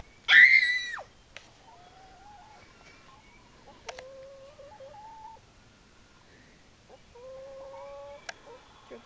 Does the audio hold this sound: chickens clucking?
yes